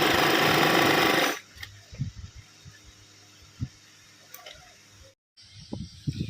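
A sewing machine runs in a loud, steady, rapid whirring burst while double-stitching a Farsi-style salwar, stopping abruptly after about a second and a half and leaving faint scattered clicks and handling knocks.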